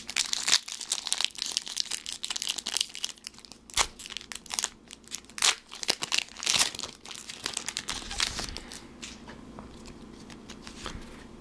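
A Pokemon card pack wrapper, a Scraggy promo pack, is torn open and handled, with busy crinkling and crackling of foil in dense bursts close up for over ten seconds, and no talking.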